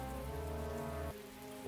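Steady rain falls across a World War I battlefield in Great War Western Front, a dense continuous wash of droplets heard alone, with a low tonal hum underneath that drops away near the end.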